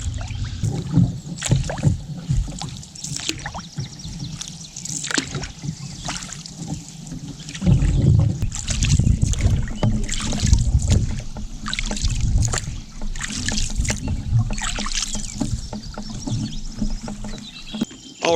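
A canoe paddle dips and pulls through calm water on a hot summer day, repeated close splashing strokes and drips with light wind rumble on the microphone, no speech.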